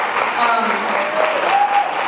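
Applause at a basketball banquet for the assistant coach, steady clapping from a modest crowd close by, with a voice speaking over it.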